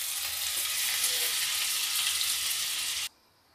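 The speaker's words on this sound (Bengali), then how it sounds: "রসুন কুচিটা 1 মিনিট ভেজে নিয়ে তারপর এর সাথে আমরা দিয়ে দেব" Chopped garlic and ginger fry in hot oil with a loud, close, steady sizzle that cuts off abruptly near the end, leaving near silence.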